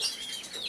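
Small birds chirp in high, thin tweets close around a person, a brief bright burst of overlapping calls.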